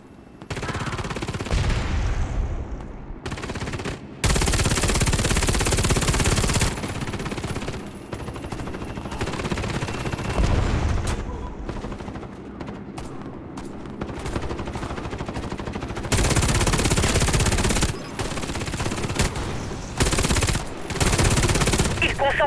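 Rapid automatic gunfire from the video game Warface rattles in sustained bursts with short pauses, loud and close, while faint voices sound underneath.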